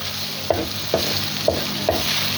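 Spiced egg omelette masala being stirred and fried in a pan, with four evenly spaced utensil scrapes over a steady, close sizzle and no talking.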